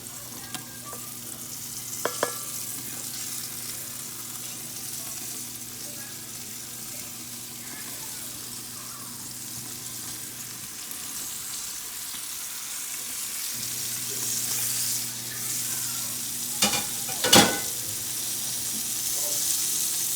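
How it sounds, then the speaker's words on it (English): Beef sizzles as it fries in hot vegetable oil in a pan, a steady close hiss with occasional sharp pops and stirring clatter, while a background hum cuts out briefly midway. "And I'm just going to add my beef to it."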